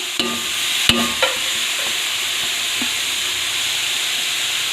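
Onion, capsicum and cabbage cut julienne for Chinese fried rice, stir-fried in a pan with a steady sizzle and hiss, a few sharp utensil scrapes and clanks near the start.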